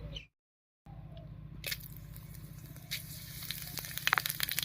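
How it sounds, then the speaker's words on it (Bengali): Dried chili and whole cumin seeds sizzle and crackle steadily in hot mustard oil, after a short silent gap at the start, with a few sharper pops toward the end. "একটা শুকনো লঙ্কা আর সামান্য একটুখানি গোটা জিরা দিয়ে ফোড়ন দেব"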